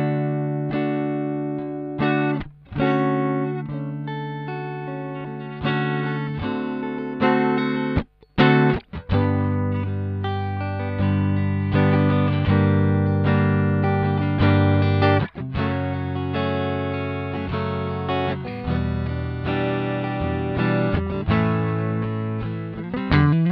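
A Cort Classic TC electric guitar, a Manson-designed model, plays a steady run of notes and chords, loud and close, with one brief gap partway through and no talking.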